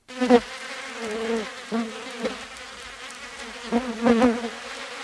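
Flies buzzing in a stable as an audiobook sound effect, a loud, close drone that swells and fades in several uneven bursts, heard alone.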